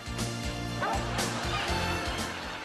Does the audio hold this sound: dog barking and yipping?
yes